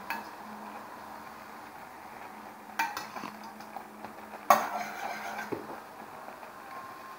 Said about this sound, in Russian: Мешаем 5 минут.